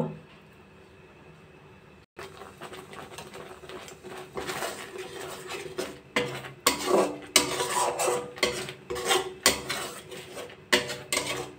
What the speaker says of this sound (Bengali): এভাবে নেড়ে যাচ্ছি, আর একটু নাড়তে হবে।